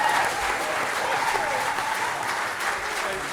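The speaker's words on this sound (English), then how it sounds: "Just give them a big round of applause." Big sustained applause fills the room at a football club's season awards ceremony, a thick wash of clapping from the audience with faint voices mixed underneath, holding steady throughout.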